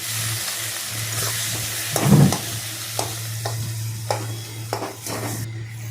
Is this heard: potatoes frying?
yes